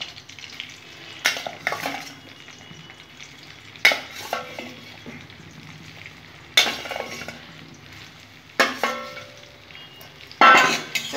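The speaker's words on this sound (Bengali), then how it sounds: "এগুলো আমি হালকা করে ভেজে নেব বন্ধুরা।" Vegetables fry lightly in a pan with a continuous soft sizzle, broken by several sharp scraping stirs and clanks of a spatula against the pan at irregular intervals.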